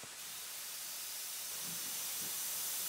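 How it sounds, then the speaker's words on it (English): Steam from boiling water in a coal-fired steam locomotive hisses in a continuous, fairly loud, broadband rush that holds steady for a few seconds with no voices. "And the boiling water turns into steam."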